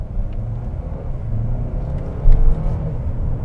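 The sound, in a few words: 2021 Mercedes-Benz GLA 2-liter turbo four accelerating, turbos spooling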